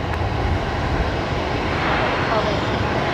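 An Airbus A220 airliner's engines roar as a steady, broad drone at Brisbane Airport at night, heard from some distance with voices in the background.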